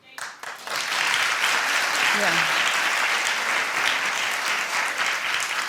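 Studio audience at a daytime talk show breaks into loud, sustained applause that fills the room right after a brief spoken word, holding steady to the end.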